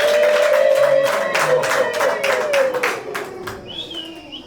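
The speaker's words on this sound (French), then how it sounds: "nous allons les applaudir parce que c'est grâce à eux" Guests at a civil wedding at the Congo embassy in Kampala clap for the newlywed couple, with lively, dense applause that stays loud throughout and eases slightly near the end, with a faint whistle-like tone on top.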